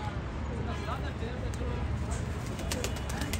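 Pigeons cooing in low, soft calls amid a busy outdoor background, with someone talking over them.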